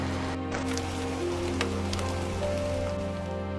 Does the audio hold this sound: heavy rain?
yes